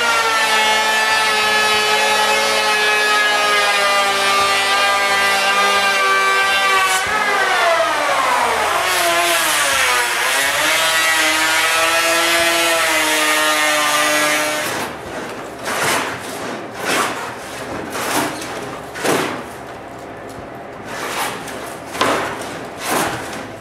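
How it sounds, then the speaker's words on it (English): Power tool cutting a rabbet into a hemlock plank for a shop ceiling: a loud, steady high whine that shifts pitch midway, then gives way to rougher bursts of cutting noise with pulsing loudness, close up and without speech. "so I make a rabbet on the first plank"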